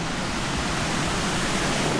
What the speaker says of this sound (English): And there's this waterfall here.